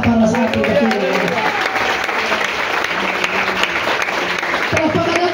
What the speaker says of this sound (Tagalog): Malakas na palakpak para sa ating kapatid.